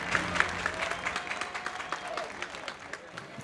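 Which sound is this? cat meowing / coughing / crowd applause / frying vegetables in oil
crowd applause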